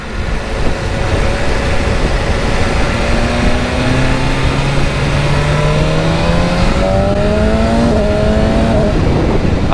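BMW S1000RR superbike with its 210 hp engine under way on the road, a loud, steady engine roar that climbs in pitch through the gears, with rising revs and shifts near the end and no voices.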